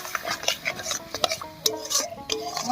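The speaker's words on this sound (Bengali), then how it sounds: "এইবার একটু মশলা ধোয়া জল দিয়ে ভালো করে কষিয়ে নিচ্ছি।" Spice paste with a splash of spice-rinsing water being stirred and fried in a pan for a Bengali potol chingri dish, with a spoon scraping and clinking against the metal in quick irregular strokes over a soft sizzle, close and alone.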